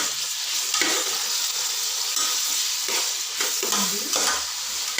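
Tomato masala is stirred into a hot tempering, a continuous close sizzle and frying hiss broken by scraping stir strokes against the pan.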